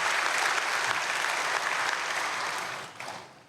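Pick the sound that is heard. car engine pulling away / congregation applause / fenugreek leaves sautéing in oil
congregation applause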